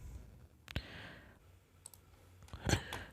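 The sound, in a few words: computer mouse clicks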